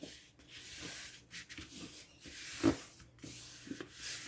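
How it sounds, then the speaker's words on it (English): Paper being burnished down by hand onto a concertina book, heard as soft, repeated rubbing and scraping strokes, close and fairly quiet, with no talking. "Just burnish it down."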